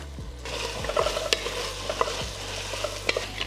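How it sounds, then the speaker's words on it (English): Chopped onions, carrots and celery frying in a pot for chicken and dumplings, a steady close sizzle broken by the scrape and clack of a spoon stirring the vegetables, with no talking. "So we're gonna come with our onions. Just go ahead and add those in there, right?"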